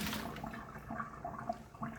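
Water from blanched green beans being poured off and strained, a steady splashing pour with gurgling that runs throughout at moderate loudness, no voices.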